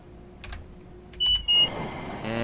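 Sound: beeping in Train Simulator Classic video game

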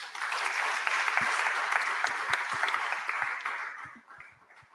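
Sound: audience applause for speakers

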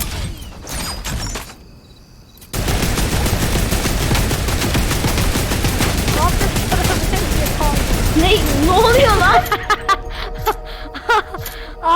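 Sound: turret machine-gun fire at zombies in Fortnite video game

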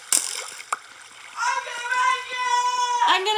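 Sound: water splashing in Minecraft video game

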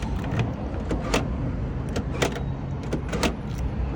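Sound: car central door lock actuating

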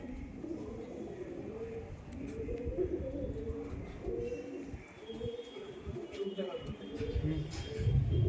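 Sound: pigeons cooing

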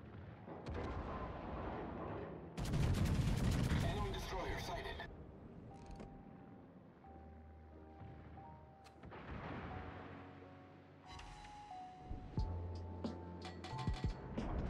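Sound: warship gunfire from video game World of Warships

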